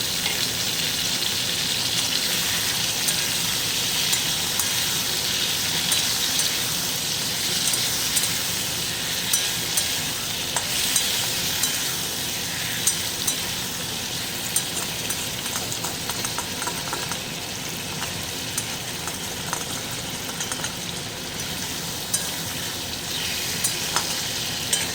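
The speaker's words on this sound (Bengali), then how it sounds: "তো আলুগুলো আমি কড়াইতে দিয়ে দিচ্ছি" Sliced potatoes fry in a kadai with a loud, continuous hiss and crackle, scattered spits and stirring clatter running steadily throughout.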